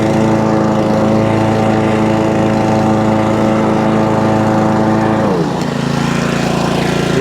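A Honda Pro ride-on lawnmower engine runs loud and close with the rotor clutch and drive engaged, a steady droning roar that shifts pitch and settles lower near the end.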